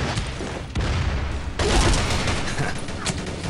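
Gunfire in the mobile shooter game Frontline Commando: Rivals, a dense, loud crackle of rapid shots and blasts that keeps going with short gaps, strongest around the middle.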